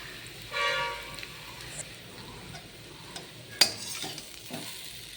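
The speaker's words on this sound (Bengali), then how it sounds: "এবার এগুলোকে ভালো করে ভেজে নিতে হবে" Food sizzles softly in a pan while a utensil scrapes and taps against it, with a few sharper clinks and a brief louder hiss.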